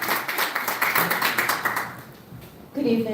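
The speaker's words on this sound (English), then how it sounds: "Please give a big round of applause for Teresa Nuccio" Audience applause at a Kings County Civil Court judicial candidates forum in Bed-Stuy, Brooklyn, a steady wash of many hands clapping that fades slightly before a voice begins at the end.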